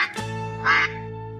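A single loud duck quack rings out in the middle of the clip, backed by a sustained musical tone, with no speech.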